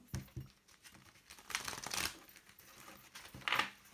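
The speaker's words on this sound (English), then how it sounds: "Let's give it one more shuffle." A deck of tarot cards is shuffled by hand, giving soft papery rustles and crinkling bursts in irregular clusters, close and quiet, with no speech.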